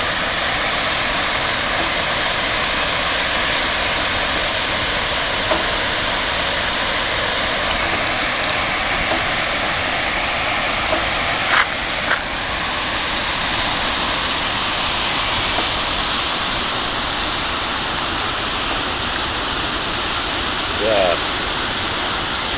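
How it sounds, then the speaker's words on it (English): Water rushes through Yarrawonga Weir from Lake Mulwala on the Murray River, a loud, steady broadband roar that holds unbroken throughout, with faint outdoor noises here and there. "the water in Lake Mulwala runs through this weir"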